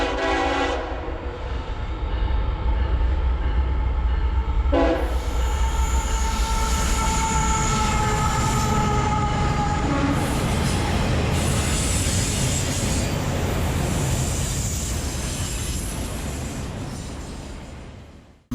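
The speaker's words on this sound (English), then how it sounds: "and a train's coming in." A train rumbles in loudly and close, horn sounding at the start, with metallic wheel squeal and a long steady roar that fades at the end.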